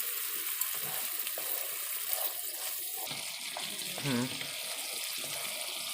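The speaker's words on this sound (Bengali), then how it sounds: "কষানো হয়ে গেছে মশলাটা, এখন আমি জল দিয়ে দিচ্ছি।" Water poured into a pan of fried spice paste while cooking hilsa in mustard-poppy sauce, a steady gushing splash with a sizzling hiss, close and continuous, with a brief gurgle near the end.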